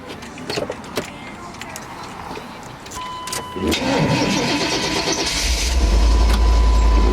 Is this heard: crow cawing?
no